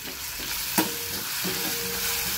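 Green chillies sauté in a pan for a fasting peanut amti, giving a steady close sizzle and frying hiss with a sharp scrape of stirring.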